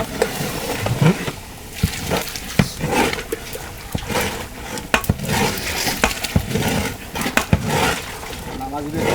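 A large pot of rice frying and cooking for khichuri, with steady sizzling and repeated scraping stirs of a utensil against the metal, close and fairly loud, while a person talks over it.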